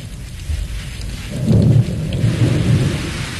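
Rain falls steadily with rolling thunder swelling midway, a deep rumble building loud under the continuous wash of a thunderstorm, with no voices present.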